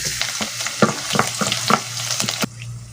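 Garlic sautéing in a pan for a Filipino mixed-vegetable ginisa, with a steady close sizzle broken by repeated utensil scrapes and stirs, then cut off abruptly near the end.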